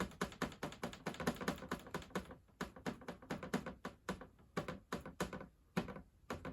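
A painted canvas held to an easel by only two Velcro pieces taps repeatedly against it at the bottom during oil landscape painting, a quick, uneven run of sharp close knocks in clusters with brief pauses.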